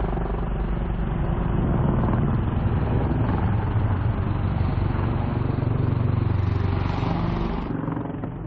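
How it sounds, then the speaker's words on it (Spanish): An Apache attack helicopter flies with a loud, steady roar, a rumbling, churning drone holding throughout and thinning slightly near the end. "La sola presencia del helicóptero Apache"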